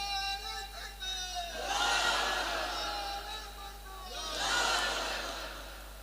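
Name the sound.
crowd shouting takbir (Allahu Akbar) at a religious sermon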